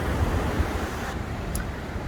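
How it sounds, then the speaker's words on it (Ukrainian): Big, storm-whipped ocean surf at a surfing spot: a steady, close roar of breaking waves with constant broadband wash and gusty wind noise, and no voices. "Ось бачите, які хвилі."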